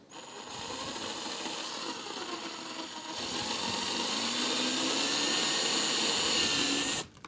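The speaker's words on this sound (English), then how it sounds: "I'm going to use a step bit to get that up to a 9/16" A drill with a step bit whirs steadily and close, enlarging a hole in a Harley-Davidson saddlebag to 9/16 inch, its motor note shifting slightly as it cuts through, then stops abruptly near the end.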